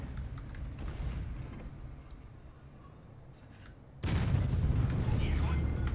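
Artillery blasts in a video game, a low rumbling boom fading over several seconds and then a sudden loud blast whose deep roar carries on, with someone talking over it.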